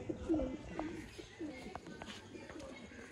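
Teddy breed pigeons cooing nearby, low soft repeated coos mixed with background chatter and bird noise.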